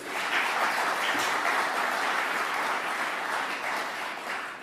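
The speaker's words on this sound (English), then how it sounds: "Let's give them a round of applause." A round of applause from an audience at a Conservative gathering in Doncaster, a broad, even roar of many people clapping that stays full and steady throughout with no voices over it.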